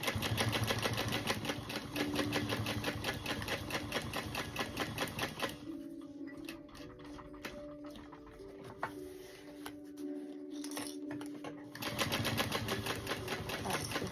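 A sewing machine basting a card slot on a leather-style wallet, stitching in rapid rhythmic bursts with a brief slower stretch in the middle, close and clear with no talk.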